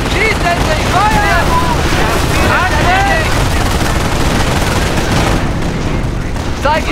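Gunfire in the Company of Heroes Normandy invasion game, continuous loud rattling shots and rumbling battle noise mixed with shouting soldier voices and whistling tones.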